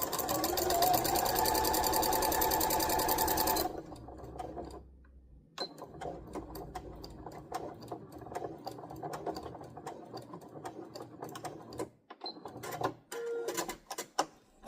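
Sewing machine stitching a fabric bowl cozy, a loud fast continuous whir at first, then after a pause shorter bursts of stitching and mechanical clicks, close by.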